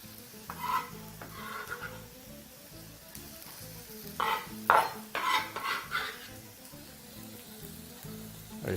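Onions frying in a little olive oil in a hot pan give off a steady sizzle, with stirring and the clink of a utensil against the pan rising in the middle.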